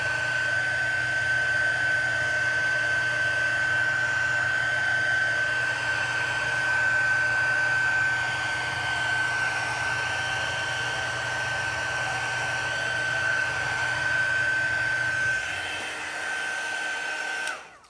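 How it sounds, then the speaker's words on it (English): A heat gun blows steadily over an autumn leaf resin Dutch pour for about fifteen seconds, a loud, continuous whooshing hum with a high whine. It cuts off abruptly near the end. "Sorry, I was talking with a heat gun on."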